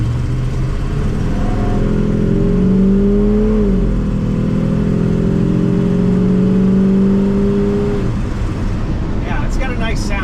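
A 1969 Ford F100 Ranger pickup's engine pulls up under throttle while driving, a loud steady drone rising in pitch, easing briefly and climbing again before dropping off as it shifts, with cabin noise throughout.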